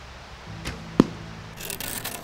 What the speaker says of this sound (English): I gotta practice my bow and arrow skills for my mushroom hunts